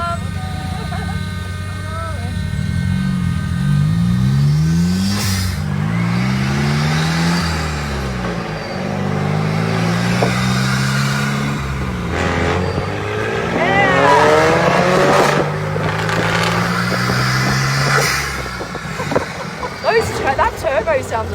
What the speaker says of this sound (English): That turbo sounds amazing